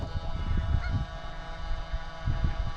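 Geese honk repeatedly near a Pro Boat PCF Mk1 Swift Patrol Craft RC boat on the water. A few close, moderately loud honks sound over a steady motor hum, with no talk.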